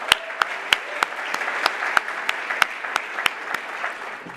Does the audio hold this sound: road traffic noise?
no